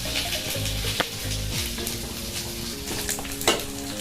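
Kaleji, goat or chicken liver pieces, frying in masala in a kadhai, with a steady close sizzle and repeated stirring scrapes and clinks of the spoon against the pan.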